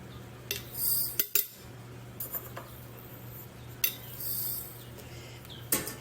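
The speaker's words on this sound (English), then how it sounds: "So I'm just going to scoop them out." Tablespoon scooping broccoli seeds from a container for sprouting in a mason jar, giving a few light metallic scrapes and clinks spread over several seconds, close and fairly quiet.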